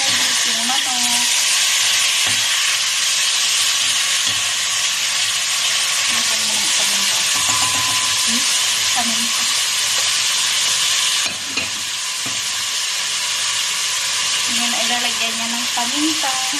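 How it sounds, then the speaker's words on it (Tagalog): Chicken pieces fry in a pan with sautéed onions for bihon noodles, giving a loud continuous sizzle and hiss. Repeated spatula scrapes and knocks stir the pan up close, and the hiss eases briefly near the end. "Lutuin na naman natin yung sabis yung manok."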